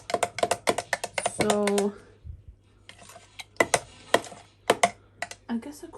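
Yogurt mixed by hand for a keto mango lassi, heard as a rapid series of clinking taps of a utensil against a bowl or glass with a brief scraping stretch, close up, while a person speaks briefly.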